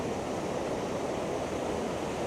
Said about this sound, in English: let's try to get close a little bit to the waves over here.